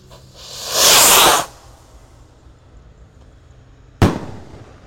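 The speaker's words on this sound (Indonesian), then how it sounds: "Oke, roket siap meluncur." A loud whooshing hiss as a rocket shoots up, fading after a second, followed a few seconds later by a single sharp bang.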